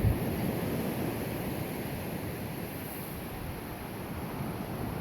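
Pacific Ocean surf washes steadily onto Doran Beach at Bodega Bay as a broad, continuous roar with wind buffeting the microphone, loud and unbroken throughout.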